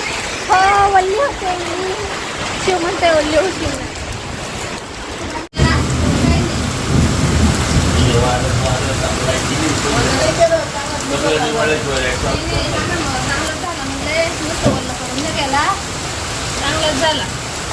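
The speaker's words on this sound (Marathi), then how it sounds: "मस्त की पाऊस आला आहे" A heavy downpour beats loudly and steadily on surfaces, with thunder rumbling through it and one sharp crack partway in. Someone talks over the roar of the rain throughout.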